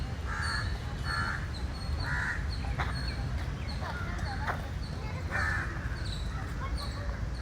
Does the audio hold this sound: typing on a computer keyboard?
no